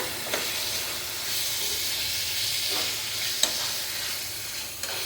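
Fried eggs being stirred into a tomato masala in a hot pan, with a steady close sizzle and hiss and a few sharp clicks of the spoon against the pan.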